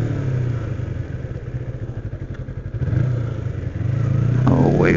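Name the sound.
2007 Kawasaki Ninja 250 motorcycle climbing a hill at 65 mph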